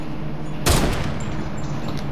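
A single sharp gunshot goes off in Fortnite, a loud close crack with a brief tail over a steady low game hum, then quiet ambience.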